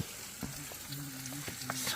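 Vegetables fry in a pan at a mountain campsite after a summit climb, with a close, continuous sizzle and scraping stirs. A faint voice murmurs beneath the cooking noise.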